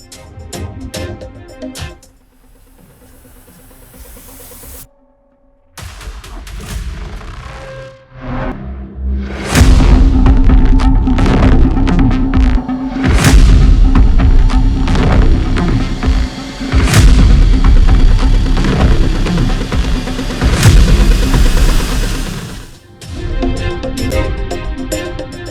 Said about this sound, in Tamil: சிலிண்டர் வெடித்து சிதறும் சிசிடிவி காட்சிகள் வெளியாகி பரபரப்பு.